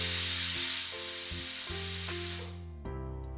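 Potato gravy bubbles in an open pressure cooker, a loud hissing sizzle for about two and a half seconds that fades away, leaving steady tones underneath.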